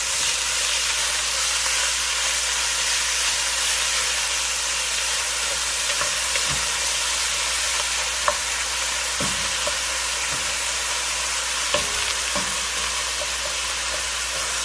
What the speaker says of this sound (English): I wanna make sure that I add my turkey. There we go, and this is the sound that you wanna hear